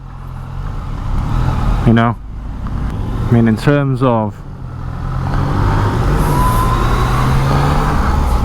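Dense road traffic along EDSA in Manila, heard from a motorcycle: a steady, loud wash of engines and road rumble fills the scene, with someone talking over it partway through.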